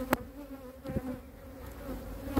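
Honey bees at a beehive: a close, faint buzzing hum with a few sharp clicks and taps scattered through the short stretch, no voices.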